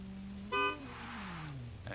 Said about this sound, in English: And there's the horn, and he's off and running for his 40-mile-an-hour roll.